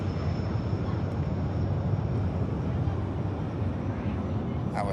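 An aircraft taking off with a loud, bassy engine roar, a dense continuous rumble that holds steady throughout, heard from an airport viewing spot with some wind buffeting the microphone.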